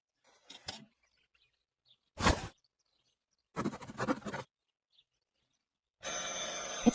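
An old telephone bell rings in short separate bursts within the Martha Is Dead horror game, with quiet gaps between rings and a longer, louder ring at the end, no talk over it.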